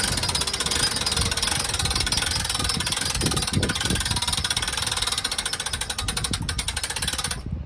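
A 2019 Clipper 125ST engine being cranked up, giving a loud, continuous rapid clattering and hammering drone that holds steady throughout and cuts off abruptly at the end.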